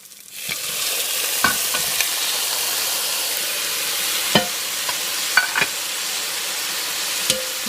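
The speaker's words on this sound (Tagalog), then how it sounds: "Now we can add in our stewing beef." Stewing beef goes into a pan of sautéed onions and garlic for beef caldereta, setting off a loud, steady sizzle with intermittent scrapes and clacks of stirring.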